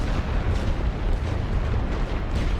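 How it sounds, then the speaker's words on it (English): Artillery barrage in The Great War: Western Front game at Verdun, a dense continuous rumble of shell bursts blending into one loud, low roar with no distinct gaps. "Let's drop more artillery on these guys coming to back them up"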